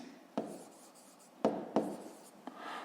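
Pen writing in a notebook during a fifth-grade maths exercise, soft scratchy strokes with a few sharper taps and scrapes, close and quiet.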